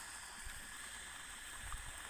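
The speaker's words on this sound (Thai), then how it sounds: "ดูดจากบ่อบาดาลขึ้นมาใส่โดยตรงแล้วครับ" Groundwater from a solar-powered borehole pump pours steadily into a freshwater prawn pond, a faint continuous rushing with slight gurgling and no talk.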